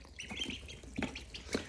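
A few short duck calls near water, scattered quacks and peeps heard nearby over a quiet background with no talk.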